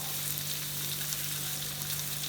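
Onions sizzle in hot oil for chicken varuval, a steady close crackling hiss with a faint constant hum underneath and no talking.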